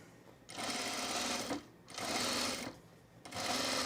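A sewing machine stitches fabric for a tunic in three bursts of steady whirring, separated by short pauses, close and fairly quiet.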